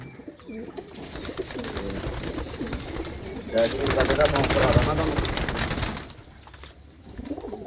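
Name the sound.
pigeons cooing in a loft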